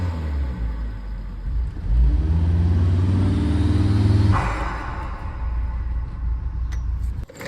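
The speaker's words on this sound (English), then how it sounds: "Now with these stock revs, you can hear the turbo really well, but the exhaust, you can't hear at all" Volvo XC70 wagon on its stock exhaust, revving up in a rising engine surge with turbo whine, peaking and then falling back to a lower rumbling idle, close and fairly loud.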